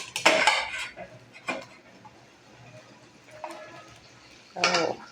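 Metal cookware clatter and utensil scraping as small pangas fish go into a pan of fried potatoes with a splash of water, a few sharp clinks and knocks spaced apart with quieter stirring between.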